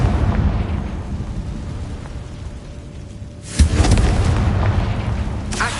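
A heavy booming blast from the Confringo blasting spell in Hogwarts Legacy bursts out loud after a low ambient room tone, followed by rumbling debris and a second sharp crack near the end.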